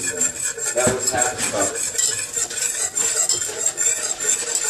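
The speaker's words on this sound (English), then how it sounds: "My cameraman will do me the favor of whisking" A whisk scrapes and stirs a flour mixture in a metal pan while making country fried steak, a steady, busy rhythm of close metallic clinks and rubbing strokes with no talk.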